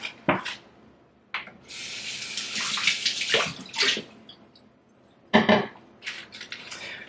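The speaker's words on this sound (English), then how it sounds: "I'm gonna get some water on the inside of this" Water runs from a tap in several short bursts with pauses between, close by, with some clinks of dishes or utensils and no talking.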